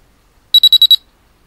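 A Noumic EDA/GSR biofeedback monitor in sound mode gives five quick, evenly spaced high beeps at an unchanging pitch, then falls silent. The beeps are clear and close, with no voices.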